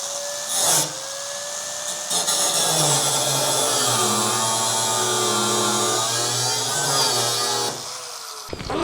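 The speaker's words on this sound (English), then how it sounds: "use a power tool." A power cutter slices through old metal street signs, a loud, sustained high whine that starts after a brief knock and holds steady for about six seconds before cutting off.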